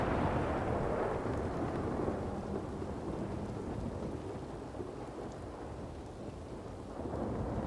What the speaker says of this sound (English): he's speaking to me through that thunder